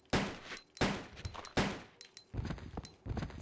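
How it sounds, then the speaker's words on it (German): Rapid gunfire in the Resident Evil 2 video game, several sharp loud bursts in quick succession, standing alone with no talk. "Jetzt können wir die Munition sogar im Schnelltempo verballern"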